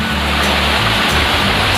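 The Rahtawu waterfall, a natural cascade over rocks, roars steadily and loudly up close as a dense, unbroken rush of falling water.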